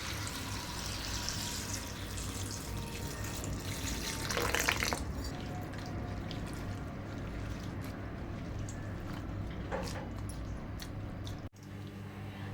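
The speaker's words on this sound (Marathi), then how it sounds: "आता ह्याच्यामध्ये थोडंसं पाणी घालून धुवून घेऊया।" Water splashes and swishes as flat beans are rinsed in a bowl, quiet and close, with a brief louder slosh partway through and a soft clunk near the end.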